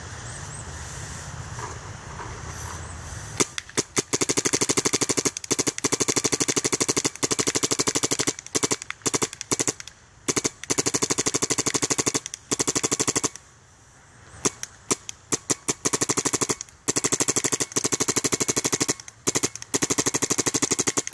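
A Planet Eclipse Etha paintball marker fires repeated rapid strings of sharp, snapping shots close by, in several long bursts broken by short pauses, with wind noise in the background.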